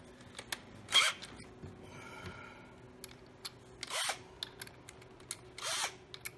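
A power drill backs a screw out of a stove blower fan kit for a Lopi, Avalon or Travis unit, giving three short, sharp whirring bursts spaced a few seconds apart between quieter handling clicks, close and fairly loud.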